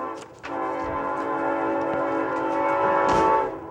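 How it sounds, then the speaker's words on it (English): A train horn or whistle sounds close by beside a town council meeting in Appomattox, a sustained harmonic blast holding steady for several seconds and swelling louder near the end before cutting off, with no talk over it. "Let the whistle stop and the rumbling begin."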